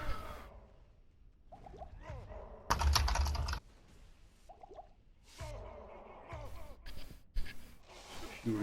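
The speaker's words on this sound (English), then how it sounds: "Furious typing in TeamSpeak." Bursts of fast, furious keyboard typing heard over a TeamSpeak voice chat during a Diablo 2 session, clacking in irregular spurts between sighs and breathy gasps, fairly quiet overall.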